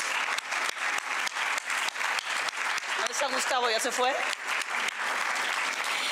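A forum audience on women in power in Mexico applauds a family of leaders, with brisk, fairly loud clapping carried on throughout while people talk over it and a voice rises briefly in the middle.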